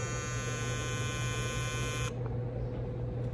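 Gamma+ EVO electric hair trimmer running with a steady high-pitched buzzing whine over a constant hum. The whine cuts off partway through, leaving only the low hum, close and unaccompanied by speech.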